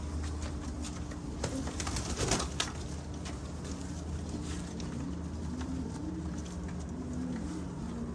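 Pigeons in a breeding loft coo steadily at middle distance, their low murmuring layered over a constant background hum with a few brief clatters.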